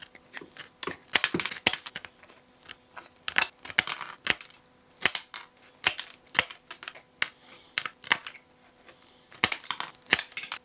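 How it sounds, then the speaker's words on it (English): Metal snips cutting a bamboo and brass lure blank, sharp crisp clicks and crunches in irregular clusters, close up with no speech. "I'm going to start off with these snips, and then as I get closer to the line, I'll use a sander and a grinder"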